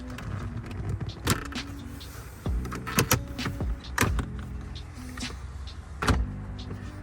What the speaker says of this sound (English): take these two trims off on either side of the console here